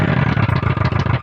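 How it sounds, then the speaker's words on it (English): A synthesized unstable exhaust backfire effect from an SFX Pro 9000 unit gives a rapid, stuttering engine burble, a quick train of popping pulses for just over a second before it cuts off. "You can turn on backfire to make some kind of unstable exhaust sounds."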